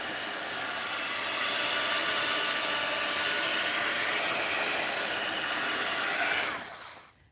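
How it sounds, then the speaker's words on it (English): A heat gun blows a steady, loud broadband roar while drying a mixed-media art journal page painted with a blue wash background, holding constant before cutting off near the end and fading to quiet. "Let me hang my heat gun here. I got to find a better place for that heat gun."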